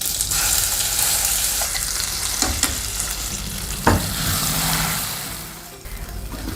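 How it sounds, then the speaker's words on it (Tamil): Pumpkin pieces sautéing in a pan sizzle steadily while a spatula stirs, with a few distinct scrapes and knocks against the pan, close and fairly loud. "ஜஸ்ட்டு நல்லா ஒரு வதக்கினாலே ஜோராக ரெடி ஆகிடுவது."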